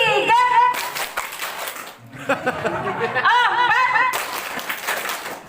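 Participants at a village watershed trainer workshop do a counted "tepuk semangat" group clap, bursts of rhythmic clapping mixed with chanting voices and a bit of laughter.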